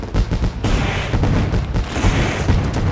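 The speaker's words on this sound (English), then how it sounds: "But the fireworks are off" Fireworks go off in a rapid, crackling barrage at the Eldora dirt race track, a dense string of booms and pops filling the whole stretch at close range and high volume.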